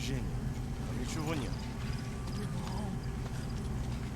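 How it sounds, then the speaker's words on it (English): Horse hooves clip-clop in Metal Gear Solid V, a steady trotting rhythm under ongoing game sound and people talking over it. "the horse with Vapor Snake was wearing that DLC armor"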